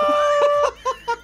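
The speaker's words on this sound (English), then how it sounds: "Summoning chickens." Summoned chickens in a video game cluck in a few short, close bursts after a brief sustained tone, each cluck loud and separated by brief pauses.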